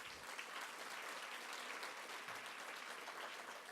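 An audience at a child welfare conference gives a sustained round of applause, with dense, even clapping filling the room at moderate loudness and no clear talk.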